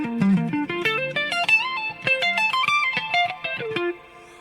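Clean arpeggiated electric guitar through a Fractal FM9 with the delay switched off, a steady stream of picked notes ringing one after another with a bright, lightly effected tone, loud and close, then cutting off near the end.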